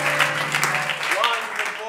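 Audience clapping at an improv comedy show in Chicago, a brief burst of applause mixed with crowd noise and a steady musical tone underneath, with voices audible.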